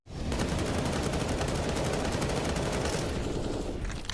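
Rapid, continuous gunfire from a Tec-9 in a Counter-Strike: Global Offensive pro match, loud and dense with barely a break between shots for about four seconds.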